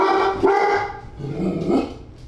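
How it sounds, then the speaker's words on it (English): A dog gives a couple of loud, close barks that roll into a rough, growly bark, all within a couple of seconds. "Hachi never barks like that"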